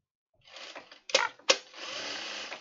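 A home sewing machine runs in short stitching bursts close by, a whirring hum broken by two sharp clicks before settling into a steadier run, with no talking.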